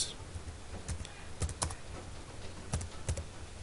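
Someone types a sentence on a computer keyboard while writing in a word processor: sparse, irregular clusters of key clicks with short pauses between bursts, close and fairly quiet against a faint background hiss.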